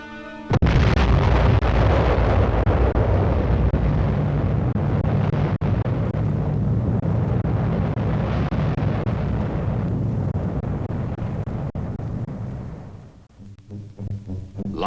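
An atomic bomb test explosion in the desert sets off a sudden massive boom, followed by a long sustained rumbling roar that slowly fades. No one speaks.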